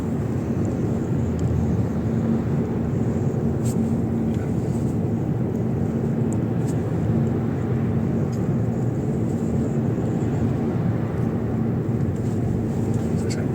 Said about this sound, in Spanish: los parches y todos los agujeros del asfalto hacen ruido